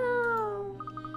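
A cat meows in the video game Layton's Mystery Journey: a drawn-out, falling tonal cry over a steady musical backdrop, followed by a short run of soft chime-like notes.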